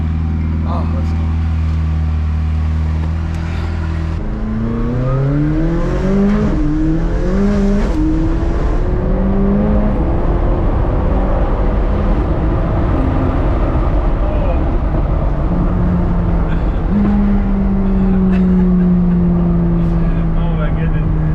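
McLaren 600LT with a turbocharged engine accelerating hard, loud and close, its rising tone stepping up through rapid gear changes over about twenty seconds of sustained full-throttle pull.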